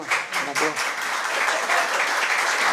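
Audience applause at a water-footprint talk, a dense, continuous patter of clapping with some talk over the opening moments.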